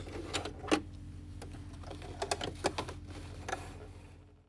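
A Singer 4411 domestic sewing machine stitches and reverses over a jeans hem seam, giving quiet mechanical whirring with irregular rapid needle clicks and thumps, close and fairly soft.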